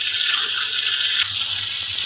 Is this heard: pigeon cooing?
no